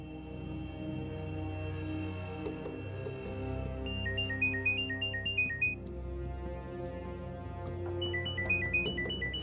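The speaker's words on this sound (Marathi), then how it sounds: "Sir phone वाजतोय." A phone ringtone chirps in two short melodic bursts over a steady background hum, fairly faint, with no talking.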